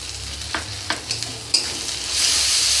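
Small shrimp with salt and masala sizzle in a pan while a spatula scrapes and stirs, leaving several sharp clacks over the frying hiss, which swells louder toward the end.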